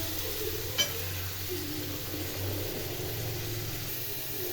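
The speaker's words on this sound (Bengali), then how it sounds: "আমি খুব ভালো করে কষিয়ে নেব" Fish seasoned with salt and turmeric sautés in a pan, Bengali style, giving a steady, even hiss of frying over a low background hum. One brief sharper spit stands out early on.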